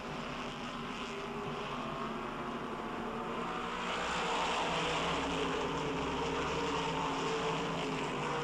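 Race cars running side by side down the back stretch at Oxford Plains, a continuous roaring engine drone heard from trackside that swells louder midway through, with no talking.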